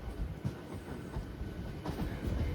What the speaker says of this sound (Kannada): ನಮ್ಮ ಟ್ರೈನ್ ಇನ್ನೇನು ನಿಧಾನಕ್ಕೆ ಅರೈವಲ್ ಆಗ್ತಾ ಇದೆ ಸ್ಟೇಷನ್ ಒಳಗಡೆ